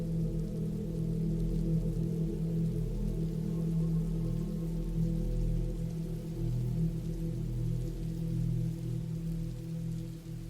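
Steady rain falls without pause, a dense, even hiss over a deep, constant low rumble, with no voices or other interruptions.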